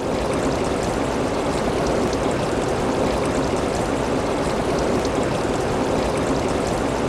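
Spring water in Himachal Pradesh flowing between stones, a steady, close, full-bodied rushing and gurgling that stays constant throughout with no voices.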